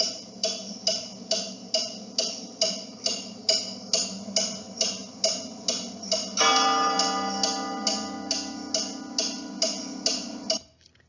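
Close, regular ticking from a grandfather clock, each tick a crisp knock, is joined midway by a sustained bell-like chime that rings for several seconds before the plain ticking carries on.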